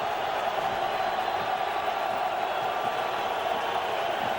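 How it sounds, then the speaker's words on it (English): Subdued crowd noise fills an NFL football stadium during the Jets at Raiders AFC divisional playoff game: a steady, distant murmur of spectators with no distinct cheers or surges. "Crowd noise is just not that big right now."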